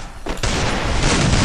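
Gunfire bursts in the Free Fire shooting game, a sudden loud booming volley that starts after a brief quiet and keeps rolling densely to the end.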